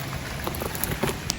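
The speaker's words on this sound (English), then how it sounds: "it started pouring after we got about 5 minutes in" Rain pours onto a garden plot during weeding, a continuous close patter of drops with a few sharper splashes.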